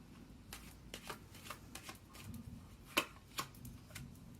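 Tarot cards are shuffled in a quiet room, giving a soft riffling with several sharp slaps and flicks as cards are cut and drawn, faint and close.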